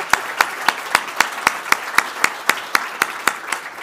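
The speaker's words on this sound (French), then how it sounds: "On peut vraiment les applaudir." Panelists receive applause at a French conference on reducing one's carbon footprint. The claps are sharp, evenly spaced, and close, arriving roughly four times a second at a steady rhythm. They sound like a few hands clapping more than a large crowd.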